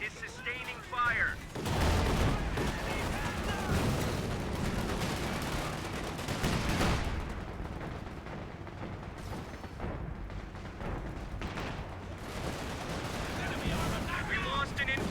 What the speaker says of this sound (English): One of our fighting positions is sustaining fire